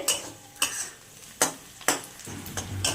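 Reddened onions with chillies sizzle in a pan while a spoon scrapes and clinks against the metal every half second or so, a close, crisp stirring rhythm over a steady frying hiss.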